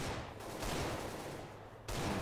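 Gunfire from a Counter-Strike match in a CEVO Pro League game, a dense, continuous burst of shots filling the whole stretch with a brief dip and then a loud resumption near the end, no talk over it.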